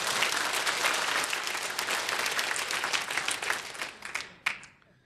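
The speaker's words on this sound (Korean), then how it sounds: "박수 박수 박수 박수." A church congregation claps and applauds in a dense, sustained burst that tapers off near the end with a few last claps.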